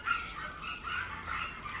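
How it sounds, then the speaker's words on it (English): Dogs indoors yip and whimper in a few faint, high-pitched bursts, heard from a distance against a quiet room. "Oh, there are the dogs."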